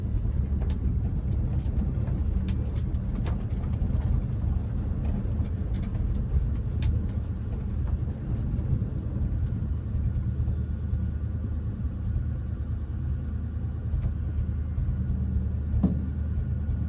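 A truck engine rumbles low and steady as it pulls up a driveway, a continuous near drone with faint clicks and no talk, in a setting about flathead Fords overheating.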